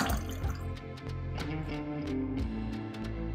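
Water with a little oil drains from an engine during a teardown into a bucket, a close, continuous trickle with irregular drips and splashes.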